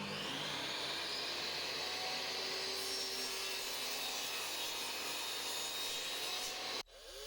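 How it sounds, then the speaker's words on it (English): A table saw parts off a pyramid-shaped block of wood, cutting in one steady, loud whine that holds for several seconds before stopping abruptly near the end. "I'll just part it off with the table saw"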